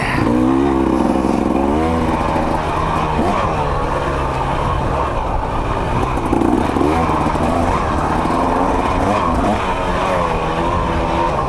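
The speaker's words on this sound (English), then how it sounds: "Grab another gear so the bike can roll fast on the clutch." A 2024 KTM 300 XC-W dirt bike rides a trail, its engine droning loudly and steadily throughout with shifting revs and no pause.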